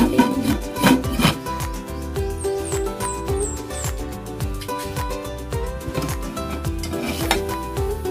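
A spoon or ladle stirs pork sinigang in a pot, scraping and clinking against the metal in a quick, repeated rhythm with a light sizzle underneath, close and fairly loud, with no talk.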